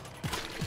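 Brief SMG fire in Dead Nation: a short, close burst under a second long, with two heavier thumps standing out in the rattle.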